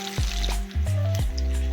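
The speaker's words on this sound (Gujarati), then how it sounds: "હવે ગેસ ફૂલ રાખી અને આપણે તેને તળી લઈશું" Farali potato vadas deep-fry in hot oil over a full gas flame, giving a steady, close sizzle and bubbling that runs throughout without any voices.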